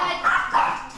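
A dog barks twice in quick succession, loud and close, with a rough, voiced tone over a noisy background.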